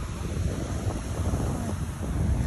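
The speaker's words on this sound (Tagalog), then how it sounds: "Pakinggan nyo yung alon habang nagkakape." Ocean waves wash ashore at Cijin beach at night, a steady broad rumble of surf mixed with wind buffeting the microphone, continuous and fairly close with no talk.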